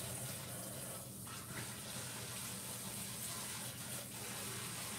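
A kitchen tap runs with a steady, quiet rush of water during home bread baking. The stream stays constant for the whole stretch, with no voices over it.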